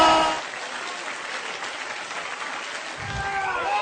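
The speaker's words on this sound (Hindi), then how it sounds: "please put your hands together and help me welcome on the stage Diamonds Going Camp, Tapas Ranjan and Susmit" An audience at an Amway motivational stage event applauds steadily for several seconds as speakers come on stage, a dense wash of clapping with a voice rising over it near the end.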